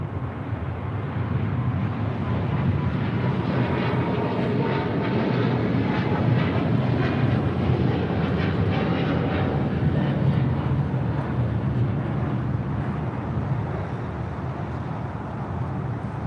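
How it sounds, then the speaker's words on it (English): A China Eastern Boeing 777-300ER jet takes off at LAX, its engines producing a loud, steady broadband roar that holds strong throughout with no talking. "This is China Eastern Airlines 586 taking off to Shanghai on a 777-300ER"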